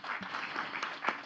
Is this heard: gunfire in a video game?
no